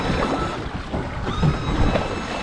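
The outboard kicker motor on a 2015 Stabicraft 1850 boat idling on the water, a steady low rumble with a faint whine, mixed with wind and water noise throughout and no talk.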